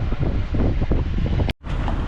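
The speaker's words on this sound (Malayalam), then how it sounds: "നല്ല കാറ്റ് വരുന്നുണ്ട് കണ്ടോ" Strong sea wind rumbles and buffets the microphone steadily on the Pamban bridge at Rameswaram, cutting out abruptly for a moment before the gusting resumes.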